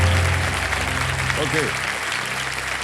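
Studio audience applause on the quiz show Kaun Banega Crorepati, loud continuous clapping filling the whole stretch, with a brief spoken word and faint music tones underneath.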